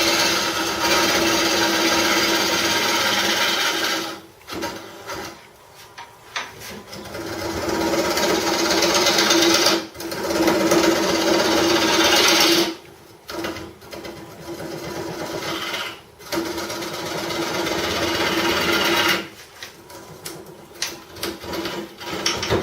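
A wooden bowl spins on a lathe at a woodworking club meeting while a turning tool cuts shavings. The loud, harsh scraping roar runs in long passes broken by brief pauses as the tool is lifted.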